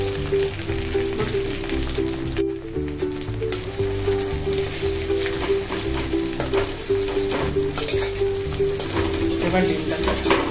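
Two eggs fry in hot white oil in a wok, with a continuous close sizzle and crackle that holds steady throughout, while a low musical background plays beneath.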